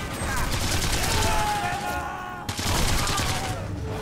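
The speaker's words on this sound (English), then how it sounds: "So let's switch to the machine gun," Rapid machine gun fire rattles in the Sniper Elite 3 shooter game during a desert siege at Tobruk, two dense sustained bursts with a brief gap between them.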